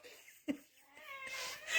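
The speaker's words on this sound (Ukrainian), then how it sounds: "Томас, а ну давай мяу." A cat gives a short meow close by, and a soft rustle follows it.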